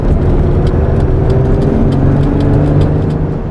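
A red Ferrari Testarossa engine is wound up from idle, a loud, continuous, close-up rev that holds strong for the whole stretch.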